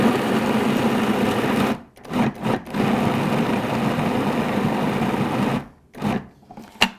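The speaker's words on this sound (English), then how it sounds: "So they're all going to go in here in the food processor, and you really need a food processor for this, because this is going to be a really thick paste." A food processor whirls softened dried plums into a thick paste, a loud steady motor whir running continuously and cutting off briefly twice as it pulses, then restarting.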